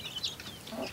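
Young chicks cluck and peep in short bursts, close and fairly loud, with no talk over them.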